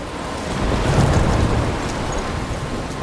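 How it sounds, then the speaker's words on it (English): A stormy scene in the video game Life is Strange with rain and blustery wind makes a dense, steady roar, swelling slightly and then holding constant, with no voices. "I'm trapped in a storm?"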